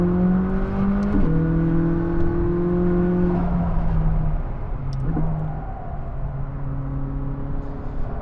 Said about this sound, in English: Let's get an acceleration in here.